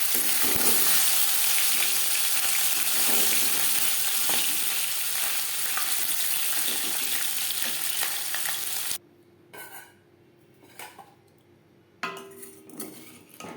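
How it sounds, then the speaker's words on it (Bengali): Katla fish pieces fry in hot oil with a loud, continuous sizzle, then the sound drops away and returns with utensil scrapes and clinks. "মাছ একটা সাইড ভাজা হয়ে গেলে অপর সাইডটা উল্টে দেবো।"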